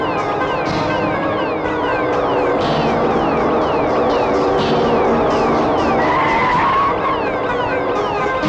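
Tires squeal and skid continuously as a car overtakes another during a movie chase, loud and close under a dense engine roar with repeated sweeping screeches throughout.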